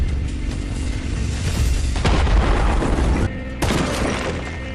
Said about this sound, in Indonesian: John yang sudah sangat kesal dibuatnya melempari bom ke arahnya